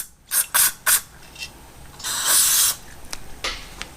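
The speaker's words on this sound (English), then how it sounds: "Spray a little carb cleaner through there." Several short hissing bursts of aerosol carburetor cleaner sprayed into a Yamaha XJ650 Turbo carburetor, followed by one longer sustained spray, close by with faint mechanical clicks between.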